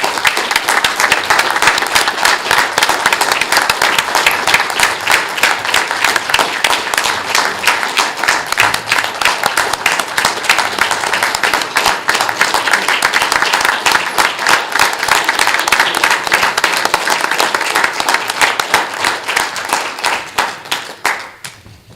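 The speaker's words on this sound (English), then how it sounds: "I just would like a round of applause for the police officers that are here" A crowd at a city council meeting applauds the police officers present, loud, sustained clapping from many hands that holds steady for over twenty seconds and fades slightly at the close.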